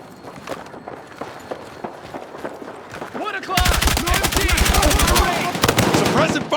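Machine gun fire in the video game Battlefield 6, a sustained rapid burst of loud shots following scattered footsteps, movement and distant gunfire.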